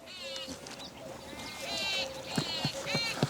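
Goats on a farm in Sikar, Rajasthan give several short, wavering bleats, the last ones louder and closer, with people talking quietly nearby.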